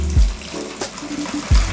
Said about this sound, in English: our next step will be removing some of the water